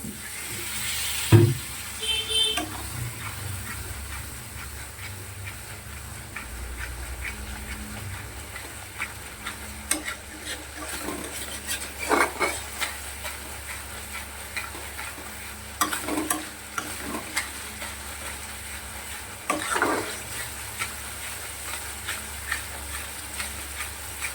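Spice paste with a splash of water cooks in a wok under a soft constant sizzle, broken by repeated scraping spatula strokes at irregular intervals, with no voices.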